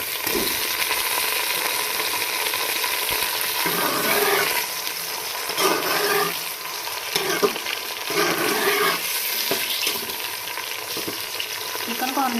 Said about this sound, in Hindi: चिकन को हमने थोड़ी देर के लिए इसको गोल्डन कर लेना है।